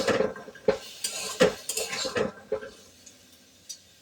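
Vegetables with peas being stirred in a pot, a metal spoon clanking and scraping against the sides in a quick burst of knocks that thin out toward the end, close and fairly clear, no talking.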